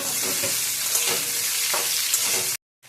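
Raw mangoes hit a hot pan and are stirred, giving a loud steady sizzle and frying hiss with soft scraping pulses for a few seconds before cutting out abruptly.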